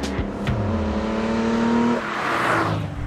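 A Holden car engine revs hard at high RPM, with loud, sustained harmonic tones climbing and dipping in pitch across several throttle blips, close up with no talking.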